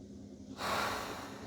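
A single sharp nasal inhalation during a breathing exercise, starting abruptly after a quiet moment and holding as a close, airy rush of breath.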